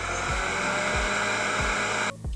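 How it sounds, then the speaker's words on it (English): A robot vacuum cleaner, switched on by a phone-based AI assistant, runs with a steady loud motor whine and a low pulsing hum that repeats about every second, then abruptly cuts off near the end. "I've started the vacuum cleaner to clean your room."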